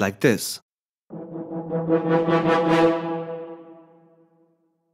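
After a brief spoken phrase, a sampled orchestral instrument from the Vienna Instruments library plays crescendo staccato repetitions: a rapid run of short repeated notes that swells louder, then thins out and fades.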